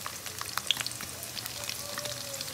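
Chopped garlic and onion frying in hot oil in a pan, giving a steady soft sizzle with faint crackles throughout, no voices.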